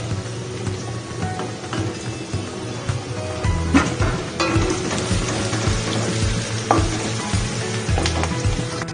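Chopped garlic frying in a little oil with browned onions for a noodle dish, giving a steady close sizzle broken by utensil scrapes and clinks as it is stirred.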